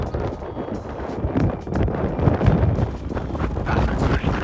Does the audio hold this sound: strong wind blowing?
yes